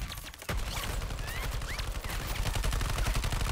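Dense, rapid automatic gunfire in Suicide Squad: Kill the Justice League breaks out after a brief pause, loud and continuous with overlapping shots and effects.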